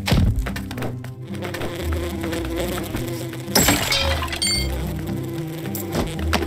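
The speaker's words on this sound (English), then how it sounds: "Oh, come on, bees!" A loud, steady buzz of bees from the video game Lucky Tower Ultimate, with game sounds over it and a sharp burst partway through.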